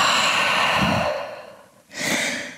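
A deep, close breath is taken in a downward dog yoga pose: a long airy exhale that gradually fades, a brief silence, then a sharp inhale.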